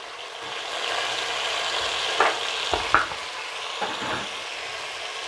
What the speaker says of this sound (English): of course we keep stirring